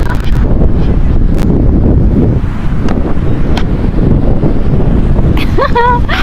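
Loud, rumbling wind buffets the microphone throughout, with a brief voice near the end.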